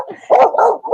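A puppy barks and yips close by, a few short, excited bursts within a second, with no voices over them.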